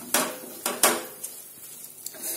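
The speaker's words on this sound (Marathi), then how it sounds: "याला छान आपण मिक्स करूया" Soya chunks tossed through masala in a pan, with a few loud metallic spatula clanks early on, then softer scattered scrapes and taps fading out.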